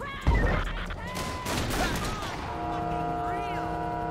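Gunfire rings out in GTA 5 during a police sheriff patrol, modded with LSPDFR: one sharp, loud blast up front, then a busier clatter of shots and crashes, with people talking over parts of it.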